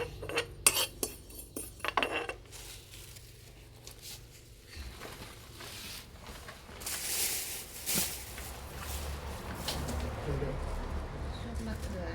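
White sesame seeds roasting in a pan give off metallic scraping and clinking from the utensil, with patter from the seeds, over about twelve seconds. The sound is close, with louder bursts of stirring and some voice in the background.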